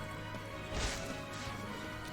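Shatter attack move landing in the Doodle World video game, a single crashing smash with a bright swoosh over steady game noise.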